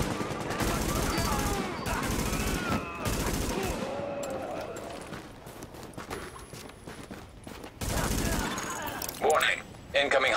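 Bursts of automatic gunfire in Tom Clancy's The Division, aimed at supplies under attack, loud and close at first and then thinning out, with people talking over the shooting.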